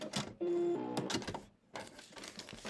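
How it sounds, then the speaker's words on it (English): A sewing machine needle punches through two layers of fabric and a paper foundation in short bursts of whirring stitching, separated by quiet gaps. "needle is punching right through the both fabrics and the paper"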